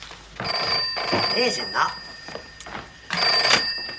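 An old telephone bell rings in two loud, metallic bursts, with voices talking over the rings.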